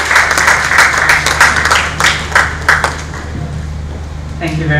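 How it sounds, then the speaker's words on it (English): Audience applause at a CVL luncheon honoring a retired colonel welcomes an executive to the podium: loud, close clapping over a steady low hum, tapering off as the room settles. "This is a round of applause."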